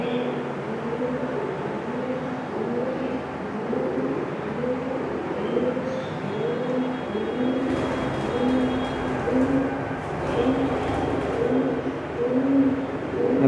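Fancy pigeons coo in a bird shop, their rhythmic, repeated low burbling calls overlapping steadily and close, with some faint clattering noises in the background.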